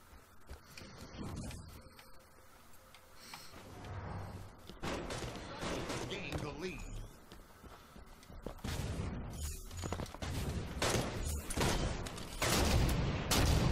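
Sniper rifle gunfire in a Halo 5 team snipers multiplayer match, a run of sharp shots and impacts over game sound that grows denser and louder toward the end.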